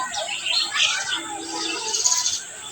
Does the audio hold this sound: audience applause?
no